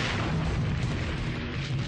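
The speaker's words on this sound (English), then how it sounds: "they ask the tank gunners to fire at the room and destroy it" Tank cannon fire slamming into a hotel during the 2004 battle of Najaf: a dense, sustained rumble of heavy booms and blasts that fills the whole stretch, loud and continuous with no voices.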